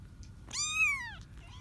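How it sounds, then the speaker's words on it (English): A single clear cat meow, drawn-out and falling in pitch, rises from a litter of kittens with their mother cat indoors over a low rumbling background. "I've got the whole bunch up and meowing."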